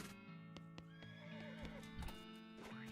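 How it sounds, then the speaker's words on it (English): Horse in the West of Loathing video game gives a clear whinny over soft clip-clopping hooves, set against a steady game music backdrop. "So we're gonna name our horse Horse."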